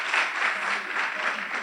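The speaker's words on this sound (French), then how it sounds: "je pense que ça s'applaudit bien" A crowd at an outdoor summer show breaks into applause, a steady, fairly loud wash of clapping that holds through the brief moment.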